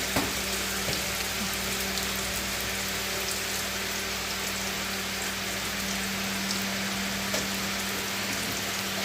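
Onions frying in a pan while making a simple noodle dish, giving a steady, even sizzle and crackle throughout with a faint low hum beneath and no voices.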